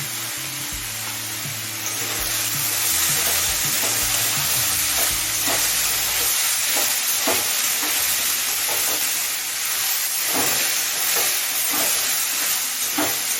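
Kudri and fish fry in a pan with salt, turmeric and ginger paste, giving a loud, constant sizzle with regular scraping strokes of a spatula that grow more rhythmic midway.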